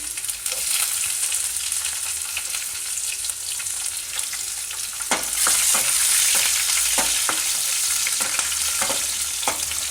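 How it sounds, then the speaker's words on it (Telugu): Curry leaves, onion and garlic sizzle loudly in hot oil as a tempering for Rayalaseema-style fenugreek dal, a dense continuous hiss with spatula knocks and scrapes growing more frequent in the second half. "ఇది కూడా వేసుకొని దూరగా వేయించుకోవాలి. ఈ ఉల్లిపాయ, వెల్లుల్లిపాయ కొంచెం ఎర్రబడాలి."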